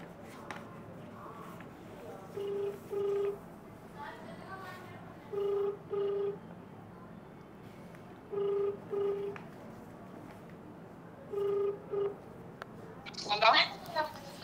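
Phone keypad tones beep in short pairs at regular intervals, with quiet voices and room noise underneath and a brief ringing burst near the end.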